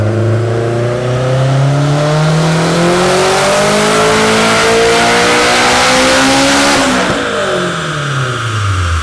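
An eighth-generation Honda Civic Si engine with a failing CX Racing turbo kit revs hard, pitch climbing steadily for several seconds, then drops sharply before rising again; loud and close with no talking.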